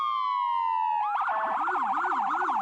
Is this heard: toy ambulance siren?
yes